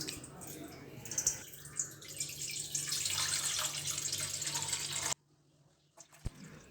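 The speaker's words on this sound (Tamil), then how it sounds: "அந்த பாத்திரத்தில் நம்ம 1/2 லிட்டர் அளவுக்கு தண்ணி சேர்க்க போகிறோம்." Water pours into a large cooking pot in a kitchen, a steady splashing rush for about five seconds that stops abruptly, followed by a couple of faint clanks.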